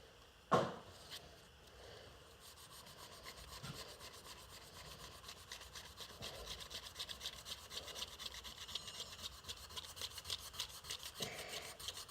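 Knife blade being hand-sanded with 400 grit sandpaper during polishing, a quiet rhythmic rasping of repeated strokes that becomes steadier and denser after the first few seconds, following an initial knock, with no talking.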